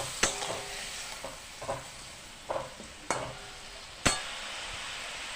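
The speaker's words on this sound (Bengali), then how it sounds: "তার উপরে ফুলকপিটাও দিয়ে দিলাম। এবার আরো 2-3 মিনিট খুব ভালো করে কষাবো।" Topse fish sautéing with cauliflower and red chillies in a pan give a constant close sizzle, broken by several sharp scraping knocks of a spatula stirring at irregular intervals, with no voices.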